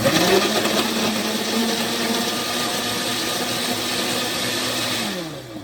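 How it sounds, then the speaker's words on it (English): A kitchen blender whirs continuously while blending a summer smoothie, a loud steady motor whine with a shifting pitch that winds down at the end, with no speech. "I can even start blending now"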